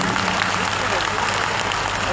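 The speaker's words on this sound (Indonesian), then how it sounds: "Boleh tepuk tangan buat semuanya." Audience applause from a gathered crowd at a community movement meeting, a dense steady wash of clapping that holds evenly at full strength throughout.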